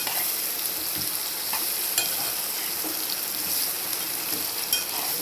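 Potatoes stirred into onions frying in a pan for a home-style dish, a steady close sizzle running throughout with faint scraping stir sounds and occasional soft clinks, no talking.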